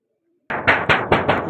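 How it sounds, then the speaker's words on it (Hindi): Pigeons lift off in a flock at a pigeon-flying contest, a sudden burst of wing claps beating in quick rhythmic pulses after a brief quiet moment, loud and close. "कबूतर माशाल्लाह उठ रहे"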